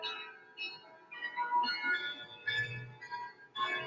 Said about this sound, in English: there are some songs that are hard to play on bells